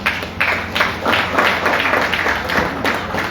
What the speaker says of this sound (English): Let's keep clapping for them.